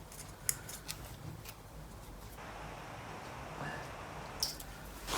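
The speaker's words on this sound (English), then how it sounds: "We'll cut the end off this tie wrap." Cutters snip the end off a plastic tie wrap during a Lotus Elan +2 engine inspection, a couple of sharp, faint clicks over quiet workshop background.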